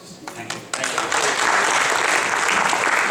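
An audience breaks into applause for the performances, scattered claps at first that swell into a full, sustained round of clapping.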